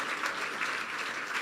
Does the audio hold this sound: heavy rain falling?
no